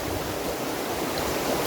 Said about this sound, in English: It's a small stream, right?